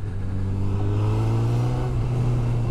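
A 2022 Honda CB1000R Black Edition roadster's engine hums smoothly while riding, a steady low drone with a faint rise in revs, close and continuous with no speech.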